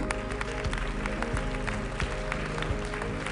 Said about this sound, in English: Please give a round of applause for Mr. Joseph Sikela, European Commissioner for International Partnerships.